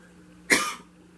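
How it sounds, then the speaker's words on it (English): A single short cough, close and fairly loud, bursting out over a quiet background and fading within a fraction of a second. "Starting to cough again."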